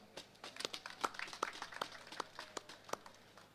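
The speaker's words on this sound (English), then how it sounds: "Another round of applause." Sparse, uneven clapping from a small crowd at a statue commissioning ceremony, individual claps popping out irregularly at moderate distance, with no voices over it.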